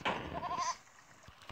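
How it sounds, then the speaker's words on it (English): A goat bleats in the puzzle video game There Is No Game, a loud wavering cry lasting under a second at the start, followed by quiet background. "Mr. Goat?"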